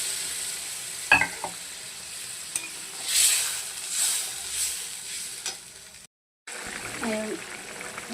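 Bhetki fish kalia gravy bubbles and sizzles in a pan as pieces of fish go in, with soft stirring and scraping sounds, a few sharper clinks and a short silent break near the end.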